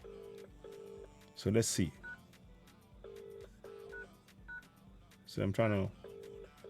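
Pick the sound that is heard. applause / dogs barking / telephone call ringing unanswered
telephone call ringing unanswered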